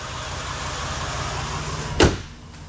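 A 2005 Jeep Grand Cherokee Limited with a 4.7 V8 idles steadily up close, a smooth continuous engine drone, interrupted near the end by a sharp single knock like a door or latch.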